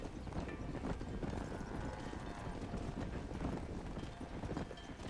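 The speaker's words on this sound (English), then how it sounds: "Those are horses." Horse hooves clip-clop steadily and evenly in the Red Dead Redemption Remastered video game, a continuous trotting rhythm heard alone at moderate volume against the game's ambience.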